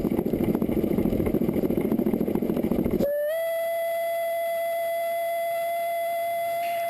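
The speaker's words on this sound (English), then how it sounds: "The driver gives a long blast on the whistle to make anyone waiting at the station aware of our impending arrival" A loud rhythmic chuffing cuts off abruptly and a long, steady steam locomotive whistle blast on the Isle of Man Steam Railway takes over, sustained for several seconds, approaching a station.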